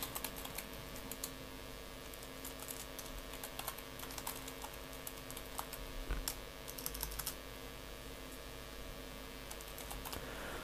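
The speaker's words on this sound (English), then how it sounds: "I'm gonna type my email address." Typing on a computer keyboard while entering an email address, a steady run of quiet key clicks over about ten seconds with no talking.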